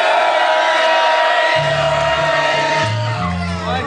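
A concert audience whoops and shouts for itself in a dense, loud wall of cheering, with low musical tones entering partway through.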